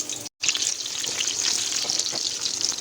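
Seasoned eggplant pieces slid into hot oil, giving a steady bright sizzle and crackle throughout after a brief silent gap at the start, close and fairly loud with no talking.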